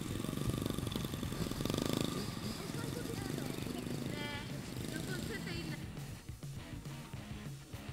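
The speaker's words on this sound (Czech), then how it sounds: "Dalším krokem je jízda se spuštěným motorem." A child's motocross motorcycle rides with its engine running during a youth motocross club session in Klatovy. The engine drone is steady and fairly loud, with a rougher, mechanical edge throughout.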